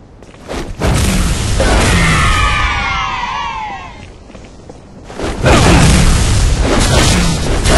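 A bomb detonates in a Grifball match in Halo Reach, a loud booming blast with a long whooshing, screeching tail that fades, followed by a second heavy rumbling surge.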